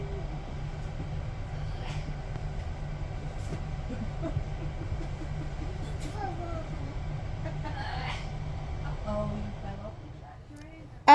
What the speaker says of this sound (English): it's not too long then until the train does eventually pass us